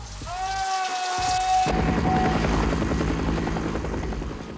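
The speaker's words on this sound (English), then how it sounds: "the great transition from Willard's scream to the sound of the helicopter arriving at the airfield" A sustained high scream cuts off abruptly into the loud, steady whirring rumble of a nearby helicopter arriving at an airfield that continues to the end.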